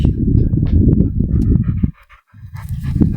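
A dog pants rapidly and steadily at close range beside a fishing pond, breaking off briefly before the quick huffing resumes.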